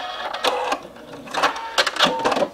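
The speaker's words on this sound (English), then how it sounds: "I have a little stitch on my machine that just stitches in one place and it repeats that stitch over and over again" A sewing machine ties off a seam with a locking stitch, giving short bursts of rapid mechanical whirring and clicking separated by brief pauses, close and clear.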